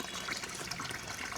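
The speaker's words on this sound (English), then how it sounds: "I do see there's still some water" Water flows beneath a culvert, making a steady, soft trickling rush that runs without a break through a brief moment.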